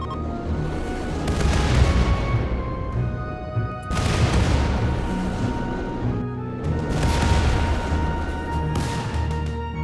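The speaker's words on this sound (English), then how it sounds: "We would call in the signal for Laz back home, and so began our bombing runs." Bombing-run explosions in the video game RimWorld rumble loud and dense, with heavy booming blasts striking near 0, 4 and 6.5 seconds over a continuous roar of detonations and crashes.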